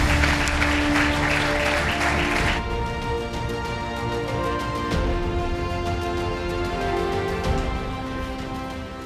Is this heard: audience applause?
yes